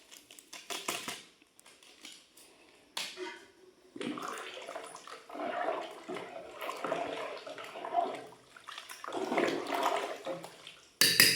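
Water is poured into a cooking pot in irregular splashy bursts, a few seconds at a time with short pauses, fairly close and soft, with light clinks of utensils.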